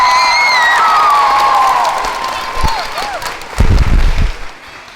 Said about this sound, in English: Humphries Elementary School, give yourself a big round of applause